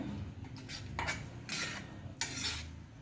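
Wheat flour for sheera roasts in a pan while a utensil stirs it, producing soft repeated scraping strokes over a quiet background, close and fairly faint, with no talking.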